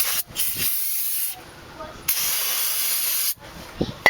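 Aerosol spray hisses steadily onto a brake caliper to clear grease and pad dust, a close, loud, continuous jet broken by a few short pauses between bursts.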